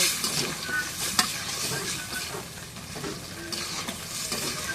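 Potatoes stirred and fried with beef in a pan, a steady close sizzle with scraping stir strokes running throughout, no talking.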